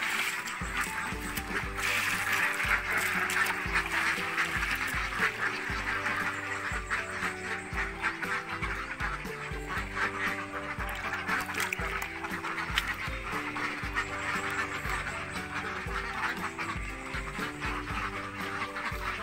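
Laying ducks quack in their pen, a dense, steady chorus of many birds calling over one another throughout, close and fairly loud, with continuous overlapping squawks and no clear talk.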